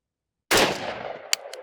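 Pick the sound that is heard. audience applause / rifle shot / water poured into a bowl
rifle shot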